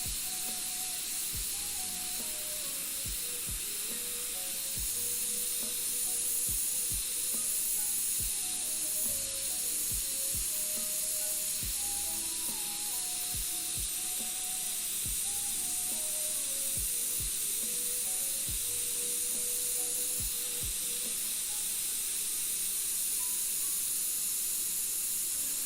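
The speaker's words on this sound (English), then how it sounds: "for base coats I get out my little Sparmax spray gun thing" A Sparmax spray gun spraying base coat, a steady, close airbrush hiss running throughout with faint clicks and background music underneath.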